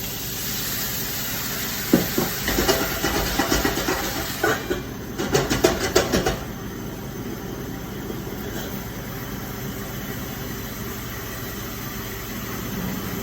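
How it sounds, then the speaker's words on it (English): A steady hiss of steam rises from a hot pan of asparagus with sea salt and water, with a burst of crackling and sizzling early on that settles into continuous hissing. "You see how much steam's coming."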